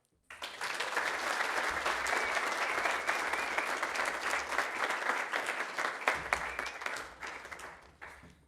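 Audience at a Landcare summit opening session applauding Max after a welcome to country, a sudden, dense, sustained clapping that carries on for several seconds before thinning out.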